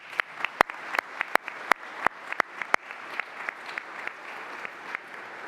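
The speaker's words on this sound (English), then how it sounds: "Please give yourselves a round of applause." Office staff give themselves a round of applause at a department's 30th anniversary celebration; a small group claps with scattered, distinct individual hand claps, moderately close, fading into thinner clapping toward the end.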